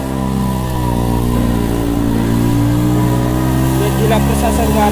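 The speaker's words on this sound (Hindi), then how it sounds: "आप देख सकते हैं किस तरीके से बाइक स्टैंड कर रहे हैं" A motorbike engine drones loudly and steadily during an outdoor bike stunt show, its pitch shifting a little as it revs, while someone talks over it.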